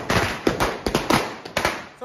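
Diwali firecrackers burst close by in a quick series of sharp cracks and thumps, several in just two seconds, with voices nearby.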